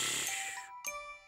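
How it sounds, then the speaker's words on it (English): Cartoon snoring sound effect from a children's animated show, a short whistling, tinkling snore with a bright high ring, then a second brief snort-like burst and a fading tone, fairly faint and with no talk. "That's the sound of Tyler snoring!"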